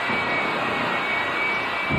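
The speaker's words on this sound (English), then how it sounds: "The car is powered by a J34 Westinghouse jet engine" A J34 Westinghouse jet engine in the Smith Brothers jet-powered Honda funny car drag racer gives a loud, steady roar that holds unbroken for the whole stretch, with no talk over it.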